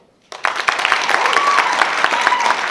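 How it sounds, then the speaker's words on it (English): A corporate awards audience breaks into applause for a senior vice president presenting an award, starting abruptly after a brief silence and continuing as steady, fairly close clapping. "please give a round of applause to our Senior Vice President and Controller for CLS, Vicki Dillon"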